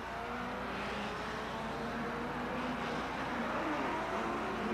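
1957 German Grand Prix race cars, Lancia Ferraris and Vanwalls, roar past in a steady distant engine drone, faint and continuous.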